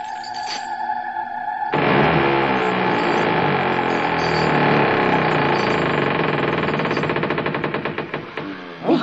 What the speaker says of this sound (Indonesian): Dinding tembok yang besar dan tebal itu perlahan-lahan bergerak, terbuka sedikit demi sedikit.